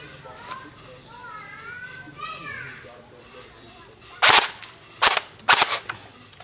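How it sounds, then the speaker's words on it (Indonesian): Airsoft AK47 rifle firing at a drink can about ten meters away outdoors: three sharp, loud cracks in quick succession near the end, following a quieter stretch with a faint bird-like chirp and background noise. "Kita tembak dari sini."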